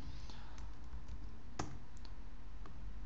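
Keys tapped on a computer keyboard while entering a swap-activation command in a Debian or Ubuntu terminal, a few faint scattered clicks over a steady low background hum.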